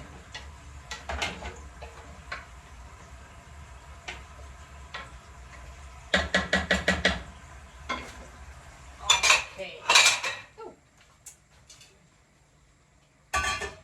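A spoon stirs meat fried in lard in a metal cooking pot, with scattered clinks and scrapes against the pot and a few louder rapid clattering bursts over a faint sizzle.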